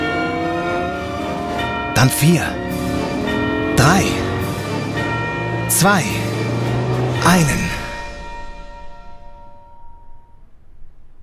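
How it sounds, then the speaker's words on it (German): A church bell strikes four slow, resonant tolls at midnight, each ringing out and decaying under a voice counting down, with the last chime fading away alone. "Bis der letzte Glockenschlag zur Mitternacht erklang"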